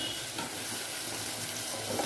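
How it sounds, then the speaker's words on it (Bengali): Jackfruit seeds and cabbage fry with turmeric and salt in a pan, giving a steady, close sizzle and crackle that runs evenly throughout without any talking. "কাঁটালের বিচিগুলো বীজগুলো আর বাঁধাকপিগুলোকে তো হলুদ আর নুন দিয়ে ভাজা করে নিচ্ছে"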